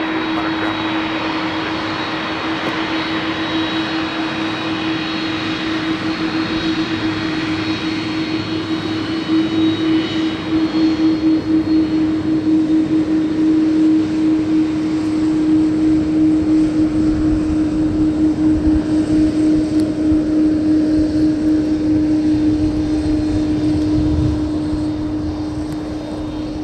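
A Boeing 787 Dreamliner at MSP airport gives a loud, steady engine drone with a sustained whine, rising slightly midway and holding close and continuous throughout, with no talk.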